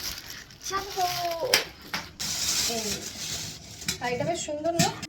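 A metal cooking pot is taken out of its packaging and handled, giving a few light clinks and clatters while people talk nearby, one voice sounding like a child's.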